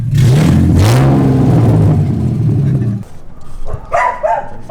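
A BMW E30 with an S52 engine and open headers revs hard nearby, a loud, rasping rise and fall lasting a few seconds before dropping to idle as voices chatter in the background.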